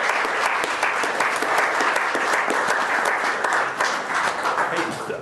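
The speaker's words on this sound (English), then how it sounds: "Give them a big round of applause" Sustained applause from the audience at a Glendale city council organization meeting, honoring a group of volunteer dads, dense and even throughout with some murmuring voices beneath.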